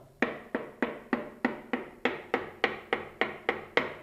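A small wooden block taps a stone base in about a dozen crisp, evenly spaced knocks, close and moderately loud, each with a short hollow decay.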